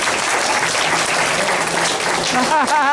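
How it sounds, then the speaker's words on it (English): Family reunion gathering clapping for its oldest relative, a 92-year-old uncle, with steady close applause and a talking voice rising over it near the end. "clap for yourself"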